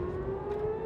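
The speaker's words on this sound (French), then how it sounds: "Sirène d'alerte tôt ce matin à Tel Aviv." An air raid warning siren in Tel Aviv holds a loud, steady wailing tone for under a second, sustained and even, with no voices.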